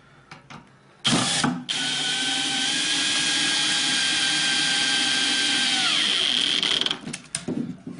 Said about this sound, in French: Et on va venir finir de visser.